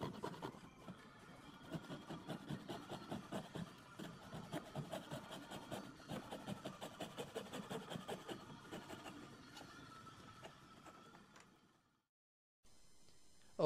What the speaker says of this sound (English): Here I use a coping saw to give me that very small,